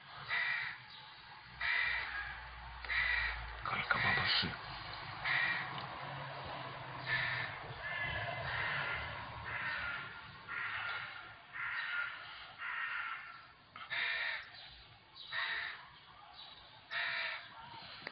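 Crows caw repeatedly in a steady series of harsh calls, moderately close, with quieter background noise between the caws.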